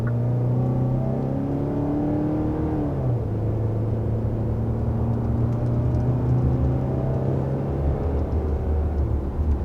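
A 2022 Hyundai Santa Fe SUV cruises at 55 mph, a steady cabin drone of road and tire noise with a low engine hum that shifts pitch once early on, loud and continuous with no talk.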